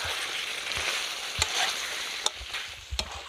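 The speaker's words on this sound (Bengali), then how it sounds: "এখানে যে মশলাটা আমি স্পেশাল মশলা গুঁড়ো করে রেখেছিলাম সেটা এবার দিয়ে দেবো এর করে, দিয়ে এবার ভালো করে একটু নেড়ে নেব।" Chicken fries in hot oil with a special ground Tehari spice mix, giving a steady soft sizzle with a few sharp scrapes and clacks of a spoon as it is stirred, close up and with no talk.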